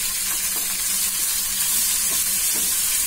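Onions and green chillies fry in hot oil for a tea-stall style onion samosa filling, giving a steady, close sizzle that hisses continuously throughout.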